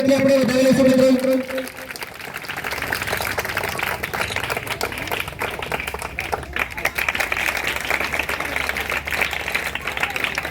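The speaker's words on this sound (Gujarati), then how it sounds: "જોરદાર તાળીઓના ગણગણાટથી આપણે વધાવી લઈશું" A voice speaks briefly over a microphone, then a village crowd breaks into loud, sustained clapping at a school farewell for teachers in Goyavant. The applause stays dense and even to the end.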